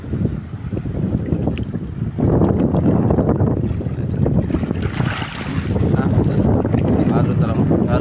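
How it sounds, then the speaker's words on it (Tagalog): Strong sea waves and gusting wind roar continuously around a small fishing boat at sea, with heavy wind buffeting on the microphone and surging, loud wash throughout; no voices are heard. "Alon talaga. Alon."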